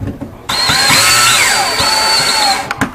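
A power drill drives a small screw through drywall during a cable install, a loud motor whine that ramps up in pitch and holds for about two seconds, then cuts off, heard close and alone.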